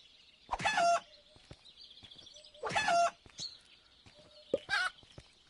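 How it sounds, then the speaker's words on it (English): Chickens cluck and squawk in the video game AWAY: Journey to the Unexpected, three loud bursts of agitated clucking spaced a couple of seconds apart, with quieter chirps and ambient game sounds between them. "Classic video game trope, just whack the chickens."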